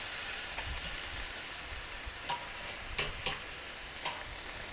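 Beef searing over a charcoal fire on a kettle grill for Korean BBQ, a steady faint sizzle and hiss with a few soft scraping clicks as pieces are moved, no voices.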